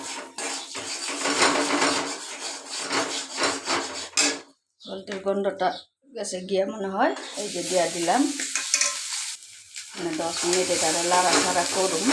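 Dried fish seasoned with a little turmeric and salt sizzles steadily in hot oil for a dry fish chutney. The loud, continuous frying hiss breaks off briefly around the middle, with some stirring and scraping, then returns at full strength.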